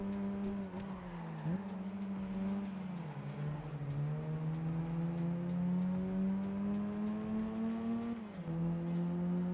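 A Lupo Cup race car laps the Tsukuba circuit in Gran Turismo on PSP, its engine droning steadily as it climbs through the revs, with brief dips at gear changes and lifts into corners.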